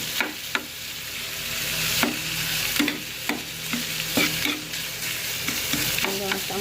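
Ground pork for pork giniling frying in a pan, stirred with repeated sharp scrapes and clacks of a utensil over a constant close sizzle, no talk.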